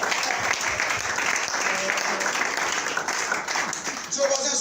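Congregation applauding during a French-language church service, dense continuous clapping with a voice speaking over it throughout.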